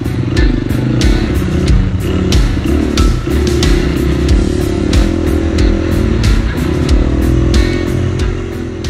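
A dirt bike engine revs hard and steadily during a family enduro race on sandy trails, loud and close with clattering bursts as the rider works through gears, with no talking.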